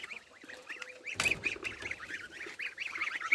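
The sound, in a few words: ducks, one white and one black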